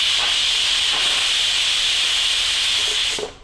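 A pressure cooker on high flame, cooking aloo matar pulao, releases a loud, steady steam whistle that hisses continuously for about three seconds before cutting off abruptly.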